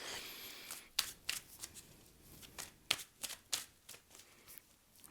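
Tarot cards are shuffled and drawn by hand, giving a series of sharp riffling snaps and soft slides that come close and fairly loud in uneven bursts, with no voice over them.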